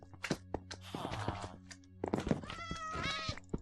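Cats meow and yowl as they are struck in the block-building game Minecraft, several short cries mixed with dull thuds and footstep-like knocks, close and fairly quiet.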